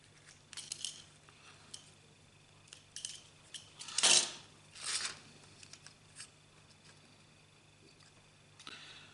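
Scissors or a craft blade cutting out a part for a VHS diorama, a few close, sharp snipping and scraping strokes, the loudest pair in the middle, separated by quiet handling noises.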